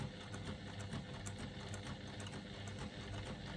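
A sewing machine runs steadily through faux leather, laying a second line of stitching for a braided wallet, its even mechanical whir and rapid needle pulses continuing without pause, moderately quiet and close.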